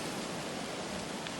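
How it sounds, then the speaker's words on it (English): Steady rain falls outdoors among trees, a dense, even hiss of drops that continues without a break and with no voices. "this is the rain"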